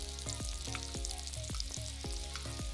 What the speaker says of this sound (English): my pear is cooking very nicely in the butter and in the cinnamon